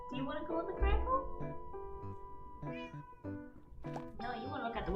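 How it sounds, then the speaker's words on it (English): Several clear, close meows from a cat, mixed with a person talking at the same time. "Is that a cat? That is a cat behind me."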